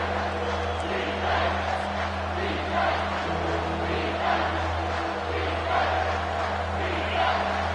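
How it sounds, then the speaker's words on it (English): A stadium crowd at a football game roars for the defense on third down, a sustained, swelling wall of cheering and shouting with rising waves, under a low steady hum. "Decibels rising as the crowd gets behind this defense on 3rd down"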